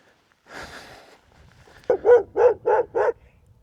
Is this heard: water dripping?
no